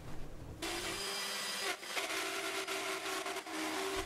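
A router fitted with a down-cut bit cuts a circle out of a wooden tabletop, giving a loud, steady high-pitched whine with grinding rasp. It starts abruptly after a brief pause and runs continuously with small dips in load.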